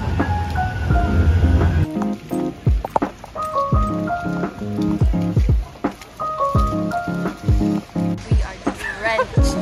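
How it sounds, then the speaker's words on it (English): Rain falls outdoors on a windy day in Manchester, pattering steadily beneath loud, bright musical tones and sharp intermittent knocks close to the microphone. "It's so windy and it is raining."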